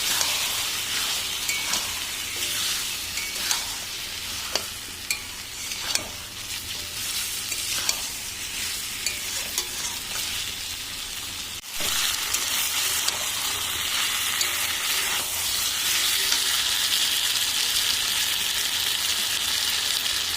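Meat frying with spices in a pan, a loud dense sizzle with frequent stirring clatter, growing steadier and more hissing partway through, heard close with no voices.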